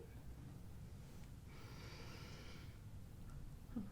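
A single slow, deep breath drawn in through the nose, soft and close, lasting about a second against a quiet background hum.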